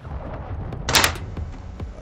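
A single sniper rifle shot in Call of Duty Modern Warfare II, heard as one sharp, fairly loud crack with a brief tail, standing out over faint game ambience.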